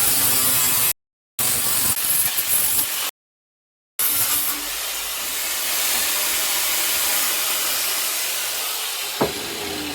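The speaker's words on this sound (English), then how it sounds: "in there with the die grinder and take that sharp edge off" A die grinder smoothing the sharp weld edge on stainless steel exhaust tubing for a Suzuki GSX750X chopper, a steady high-pitched hissing grind close up that cuts out twice briefly before running on continuously.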